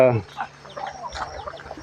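Chickens cluck close by in short, soft bursts, with a louder squawk at the start and scattered clucks continuing.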